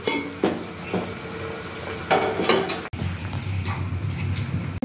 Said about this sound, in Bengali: আলুটা দিয়ে ভালো করে কষিয়ে নিই